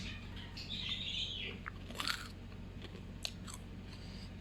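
Crisp crunching bites and chewing of ground chicken chips up close, a few sharp crackles spaced out over quiet background hum.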